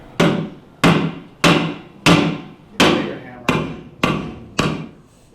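A hammer strikes a lithium-ion battery in eight sharp, evenly spaced blows, each a loud close crack that rings briefly and fades before the next.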